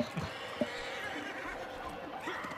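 A horse in Red Dead neighs and whinnies in a drawn-out, wavering call, moderately loud over a steady noisy background, with a few short snorts at the start.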